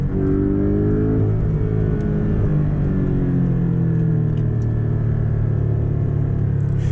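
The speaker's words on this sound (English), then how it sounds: "sounds pretty good to me, this engine" A Porsche 718 Boxster GTS engine runs steadily close by, a loud low rumble with shifting harmonic tones as revs rise and fall, with no voices over it.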